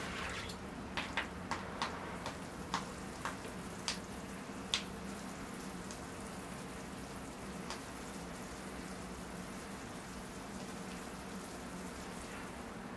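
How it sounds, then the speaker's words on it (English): Water poured from a can onto the soil of a freshly repotted silk tree bonsai in a large pot: a run of sharp drips and splashes early on, then a soft steady patter and trickle. "All right, here I go with the water."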